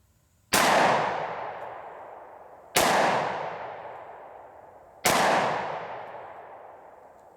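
A SIG Sauer P320 XTEN 10mm Auto pistol fires three spaced shots at an outdoor range target about seven yards off. Each sharp crack is followed by a long decaying echo.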